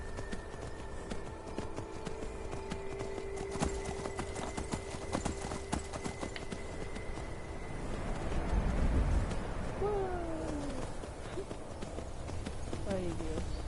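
Hooves of a horse in the Skyrim video game clip-clopping in a dense rapid patter, fairly close, over a constant game backdrop with a steady droning tone that gives way to rustling and faint bird-like chirps later.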